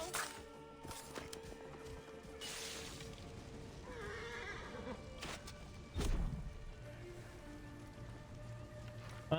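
A horse whinnies faintly amid game ambience in Assassin's Creed Origins, with clattering noises and a low thud partway through.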